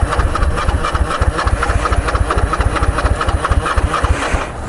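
A motorcycle engine turns over and runs roughly while being started with the choke, a loud, close, steady pulsing chug that continues throughout.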